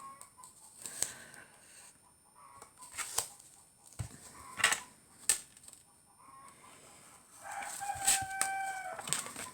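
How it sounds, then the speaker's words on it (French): A rooster crows a few times amid scattered hen clucks and short bird calls, with quiet pauses between bursts. "le coq, du moment que j'ai appuyé sur le bouton, il s'est mis à chanter"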